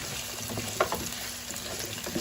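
Leeks frying in a pan give a soft, steady sizzle that stays fairly faint throughout, with a couple of brief clinks or stirs standing out and no talk over it.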